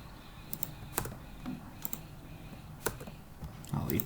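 A computer keyboard is typed on in short, sparse bursts of light key clicks, close and fairly quiet over a soft background hum.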